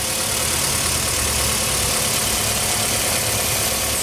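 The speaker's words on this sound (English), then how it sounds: "Under the hood is a 2-liter four-cylinder engine with variable valve timing." A 2001 Toyota RAV4 with a 2.0-liter four-cylinder engine and variable valve timing idles with a steady, even drone, continuous and close-up, with no talk over it.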